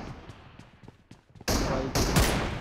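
Sniper rifle shots ring out in a sniper-only 2v2 shooter match: a few faint clicks, then two loud, sharp blasts in quick succession, with the crack lingering into a dense rumble.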